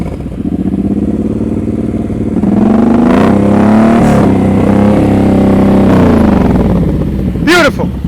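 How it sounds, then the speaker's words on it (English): A motorcycle engine idles and rises into gentle revs during slow-speed riding practice, loud and close, with a steady throb that swells and falls, and a voice speaks briefly over it near the end. "Listen to the engine."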